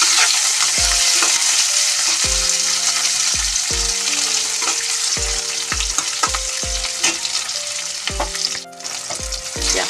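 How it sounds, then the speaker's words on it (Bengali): Sliced onions and green chillies frying in hot oil, a loud, constant sizzle punctuated by a steady series of spatula scrapes and knocks against the pan, close up with no talking. "কাঁচা লঙ্কা, এরকম করে একটু নেড়ে নেবেন খানিকক্ষণ।"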